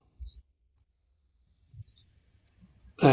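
Mouse clicks in Windows 11 settings, a few faint isolated clicks in near silence, followed by a voice starting at the end.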